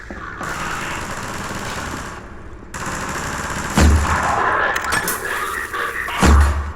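Shotgun blasts in the first-person shooter Half-Life 2: Episode One: two heavy, booming shots a few seconds apart ring out loudly over a constant wash of in-game noise.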